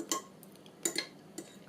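A spoon clinks and scrapes against a bowl while bulgur and eggplant stuffing gets mixed, a few sharp close taps spaced apart over a quiet background.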